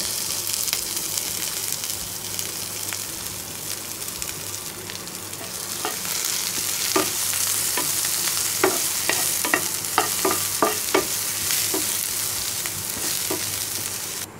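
Chopped onions fry in hot mustard oil in a frying pan, a steady close sizzle with scattered crackles and pops that grow busier partway through, no voices.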